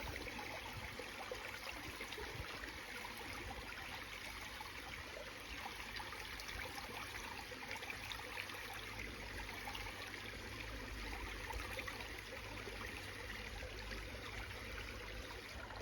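Steady rushing water with a trickling, gurgling texture runs continuously, like water swirled in a gold pan during a backyard prospecting cleanup, fairly quiet and unbroken with no talk.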